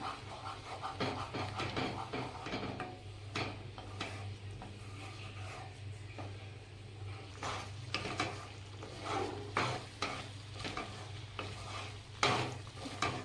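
Milk and sugar for saffron kesar peda are stirred in a pan over low heat, giving a steady, close scraping and stirring sound with a soft sizzling bubble underneath. It runs continuously with no voices.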